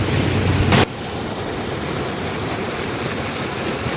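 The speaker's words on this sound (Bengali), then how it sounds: "ঝর্ণার শব্দটা একবার শুনুন" A natural hillside waterfall at Chittagong University, running low in a dry spell, gives a steady close rush of falling water after a brief louder burst at the start, with no talking.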